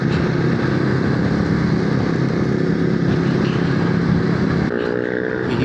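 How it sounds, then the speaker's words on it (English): A Voge motorcycle engine pulls hard in second gear under light throttle, a loud, steady onboard drone with no talking over it. "2nd gear, just touch the throttle and it's away. This is this is a very impressive engine."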